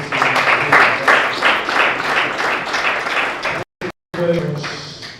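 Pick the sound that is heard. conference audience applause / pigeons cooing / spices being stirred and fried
conference audience applause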